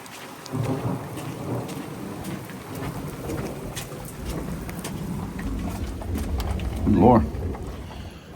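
Heavy rain pours during a desert flash-flood storm, a dense steady hiss with low rolling thunder rumbling underneath and a sharper crack near the end, loud and close throughout.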